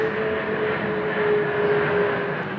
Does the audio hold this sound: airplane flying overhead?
yes